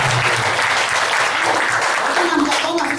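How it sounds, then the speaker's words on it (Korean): An audience claps in a steady burst of applause at a 2017 party leadership candidates' debate, dense and loud, with a voice speaking partway through. "아니 박수 쳐야 돼요."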